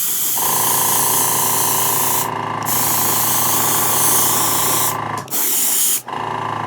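An airbrush sprays Tamiya gunmetal paint onto a Fifth Element Multipass prop. A steady, close hiss runs almost without a break, interrupted by a couple of brief pauses.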